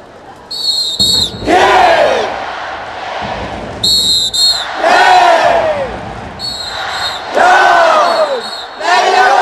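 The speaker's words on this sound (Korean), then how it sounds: "날려버려 후엔 힘찬 박수 함성 준비" Hanwha Eagles fans chant and cheer in unison at Jamsil Baseball Stadium during a game against Doosan, loud rhythmic bursts of crowd voices with whistles, rising and falling in repeated waves.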